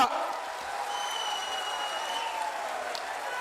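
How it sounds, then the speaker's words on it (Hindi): A political rally crowd in Balagarh, Hooghly applauds a candidate, a sustained wash of clapping heard from a distance at a fairly even level, with faint crowd noise mixed in. "अरे जोर से ताली बजाओ सुमना के लिए"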